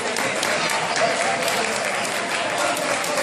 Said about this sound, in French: On applaudit très fort pour le frère Di Maria.